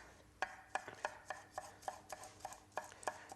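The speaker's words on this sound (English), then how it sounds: "Just sliced and give it a bit of a chop" A knife chops sliced garlic on a cutting board for a fish stew, about a dozen crisp, fairly regular taps close by with light scraping between them, no talking.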